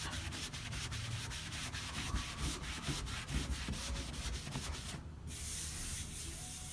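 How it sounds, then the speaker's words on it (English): A rag buffs wax over a painted wooden headboard finished in Duck Egg, a steady close rubbing swish in quick repeated strokes with a brief break near the end. "so back to buffing it"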